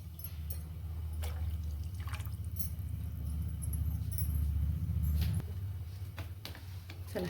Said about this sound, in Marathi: अजून थोडंसं पाणी घालू याच्यात.